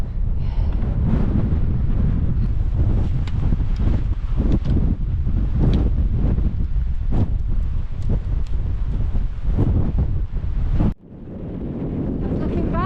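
Strong wind buffets the microphone on an open Lake District fell above heather near Lingmoor Fell, a loud continuous roar with gusty surges that cuts off abruptly near the end.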